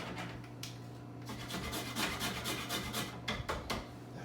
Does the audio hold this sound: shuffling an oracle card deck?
no